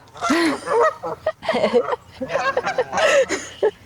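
Several geese squabble outdoors in Oregon, letting out a loud, close run of harsh overlapping honks in quick irregular bursts with brief gaps between calls.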